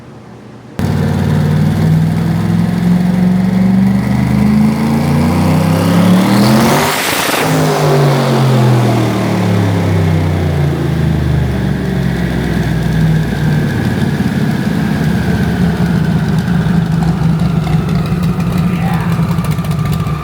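A Dodge Duster drag car engine running on methanol revs hard, climbing to the rev limiter and bouncing off it, loud and close, holding a steady roar afterward.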